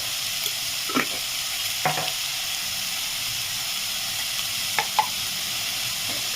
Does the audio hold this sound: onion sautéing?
yes